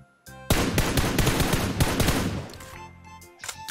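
Rapid bursts of automatic gunfire in PUBG Mobile crackle from behind the player, loud and dense for a few seconds before tapering into scattered shots.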